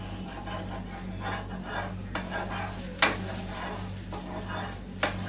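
A sabudana (tapioca pearl) dosa is turned on a hot pan, with soft scraping and rubbing of a spatula against the metal and a couple of sharp clinks, over a steady low hum.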